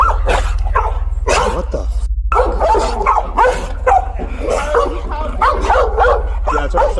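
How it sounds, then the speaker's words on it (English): Several loose, vicious dogs bark in a neighbourhood while police radio and excited voices talk over them, all under a constant low engine-like hum. "They see like 4 dogs."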